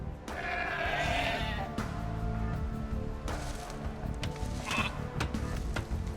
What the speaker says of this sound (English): You've found some sheep.